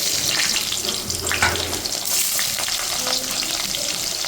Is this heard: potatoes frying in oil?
yes